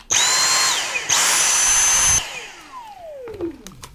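A Vytronix NIBC22 cordless stick vacuum on maximum mode whines loudly, briefly dips, then surges again and cuts off, leaving a fading descending whine and a few clicks.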